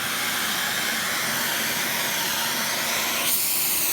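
A household vacuum cleaner runs close by with a loud, steady high-pitched whine and airy roar, its pitch shifting slightly near the end.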